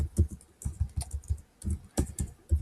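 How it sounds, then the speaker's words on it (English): Rapid typing on a computer keyboard, a close, moderately loud run of uneven key clicks in quick bursts with short pauses; no talking. "if I can type"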